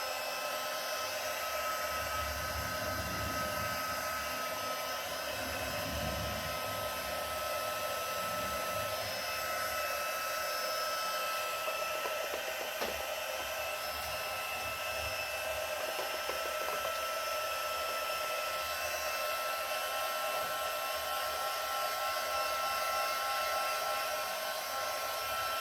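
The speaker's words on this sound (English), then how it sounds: "I'm going to use my hot gun again." A heat gun blowing hot air over craft work with a balloon, giving a steady, loud and close rushing whoosh that holds unbroken for the whole stretch, with no talking.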